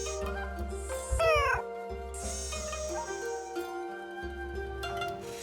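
Robotic cat meowing in the Nancy Drew game Shadow at the Water's Edge, a series of clear electronic-sounding meows with rising, warbling pitch, close and fairly loud over a steady soft background tone.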